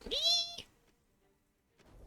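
A pet cat gives a single loud, close, drawn-out meow, followed by near silence and a faint rustle at the end.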